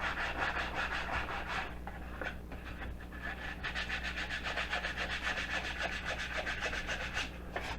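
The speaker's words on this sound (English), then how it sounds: "All you need to do now is get a piece of sandpaper, just tidy up the edge a little" Sandpaper rubbed steadily back and forth along the edge of a wooden architrave block, producing a continuous rhythmic rasping scratch, close up and even in loudness throughout.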